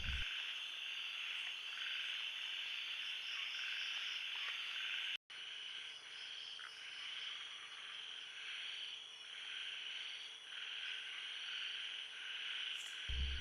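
A steady chorus of frogs calling at night at Huai Kha Yeng nature park, a continuous high trill with faint insect buzz mixed in, moderately distant and unbroken apart from one brief cut.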